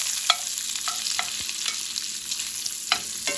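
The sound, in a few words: cut-up sausages frying in a pan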